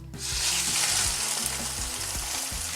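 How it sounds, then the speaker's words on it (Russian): Loud, steady sizzling of a large meat roll frying seam-down in garlic oil starts abruptly and continues close up, with a few low clunks of a pan underneath. "Теперь мясо я буду обжаривать на чесночном масле"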